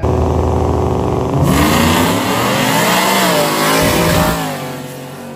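Loud, close engine roar as drag racing vehicles launch, including a turbocharged Chevy Suburban, revving hard and holding a sustained drone before easing off near the end.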